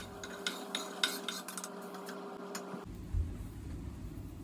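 Chopped celery and carrot go into a pan of onions and garlic for a shepherd's pie, with a few clinks and scrapes of a utensil against the pan followed by a soft sizzle, close and without speech.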